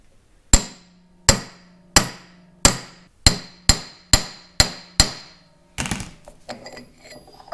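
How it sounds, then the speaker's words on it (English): A hammer strikes rivets into new tags on Farmall distributor housings, supported by a large socket, in ten sharp metallic blows at a steady rhythm, close and loud, followed by brief clattering handling. "I can support the inside with this large socket so that I can hammer those rivets in"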